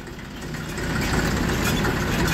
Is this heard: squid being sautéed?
no